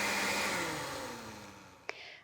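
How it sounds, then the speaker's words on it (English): A kitchen blender full of watermelon and lemon juice whirs steadily and then slowly winds down, ending with a sharp click. "we'll go ahead and add that to the blender along with our watermelon. And now we will just blend it up until it has a liquid consistency."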